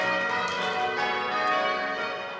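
English church bells rung by hand in a tower, a dense wash of overlapping metallic tones ringing steadily and loudly with no pauses.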